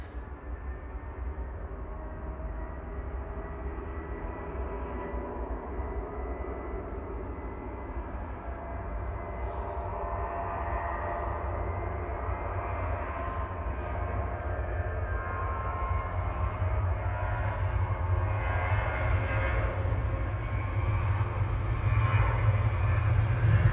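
Ryanair jet at Manchester Airport spooling its engines for takeoff, a deep steady roar that slowly swells louder over about twenty seconds, heard from some distance without voices.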